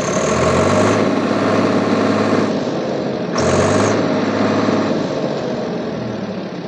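A Swraj 855 FE tractor's diesel engine runs steadily at rated RPM, a loud, continuous close-up drone that briefly revs higher twice without pausing.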